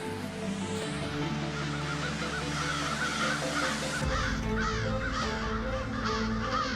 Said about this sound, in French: il y a des corneilles partout